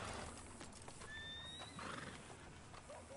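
A horse in the video game Red Dead Redemption 2 gives a clear neigh over steady clip-clop hoofbeats on a ride toward Strawberry, fairly quiet overall.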